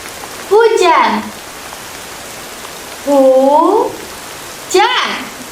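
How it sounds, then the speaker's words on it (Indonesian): Steady heavy rain hisses continuously in the background while voiced, sing-song calls rise above it in three short bursts. "Sepertinya hujannya sangat deras sekali."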